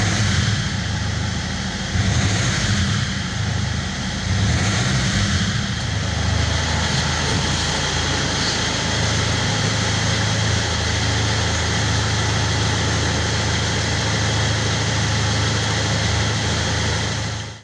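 Land Rover Freelander diesel engine with a smoking fault, given a brief rev near the start and then settling into a steady, loud, droning idle close by for the rest of the clip.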